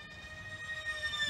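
A Hobbyzone Delta Ray RC plane on a 6S 1900kv setup makes a high-speed pass. Its whining motor tone rises and swells briefly and fairly faintly at a distance.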